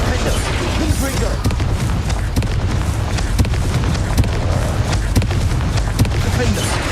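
Repeated Confringo blasting spell explosions in Hogwarts Legacy, a run of sharp booms every half second or so over a dense, busy game-noise bed, with a voice talking throughout.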